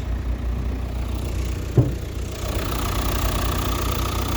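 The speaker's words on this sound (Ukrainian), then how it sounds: "Двигунчик тут реально працює дуже тихенько, ну ці двигуни гарно працюють" A Renault Kadjar dCi diesel engine idles quietly and steadily with a low, even rumble, close up, with one brief knock or tap partway through.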